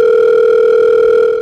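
A telephone dial tone is heard before a call is placed, one loud, unbroken steady hum held close and alone for about a second and a half before it fades slightly at the end.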